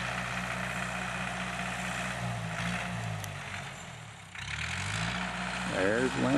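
A tractor engine plows a field, a steady low rumbling drone that dips briefly as the machine turns a corner and then swells again, with a voice speaking near the end.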